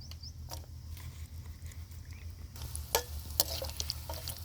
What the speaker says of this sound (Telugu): ఫస్ట్ అయితే ఎండు చేపలు వేయించుకోవాలి మనం